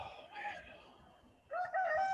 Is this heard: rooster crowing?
yes